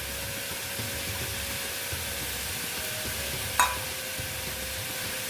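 Ridge gourd, turmeric and salted rice sautéing in a pan: a steady, even sizzle and hiss throughout, with a single sharp clink near the end and no talking.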